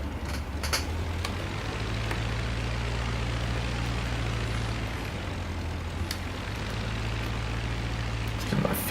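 Damaged aircraft engine in the Flying Circus VR flight game, a steady loud droning propeller hum with a low throb, a few brief clicks and a slight swell at the end, no talk.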